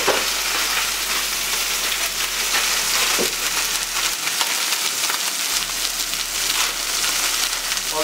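Instant noodles fry in a pan with a steady, dense sizzle that crackles continuously and evenly at close range, like light rain, with no voices over it.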